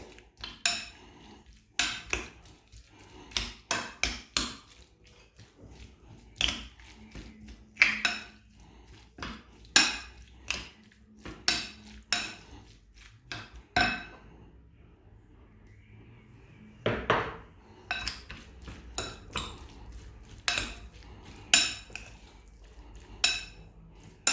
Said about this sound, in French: غادي نخلط نهرس الطون مزيان يتخلط